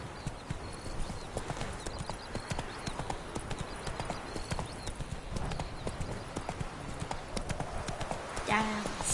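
Geralt's horse Roach clip-clops along at a steady, close pace in The Witcher 3, its rapid hoofbeats continuing the whole time under a spoken voice. A brief whinny comes near the end.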